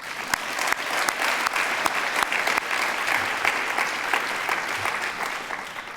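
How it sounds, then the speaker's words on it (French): Audience applause fills the room at an event, a dense, steady round of many hands clapping close by, holding at even loudness for several seconds with no talk over it. "Moi-même, je les applaudis."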